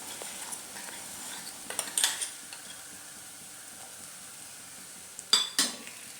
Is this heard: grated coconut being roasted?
yes